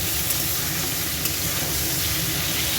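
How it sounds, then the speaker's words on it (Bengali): Fish frying in a pan while being stirred and turned over so the pieces stay straight, a steady dense sizzle holding at even loudness from start to finish, close and continuous with no voices. "এবার একটুখানি নাড়িয়ে নেবো, উল্টে পাল্টে নেবো, যাতে মাছগুলো বেঁকে না যায়"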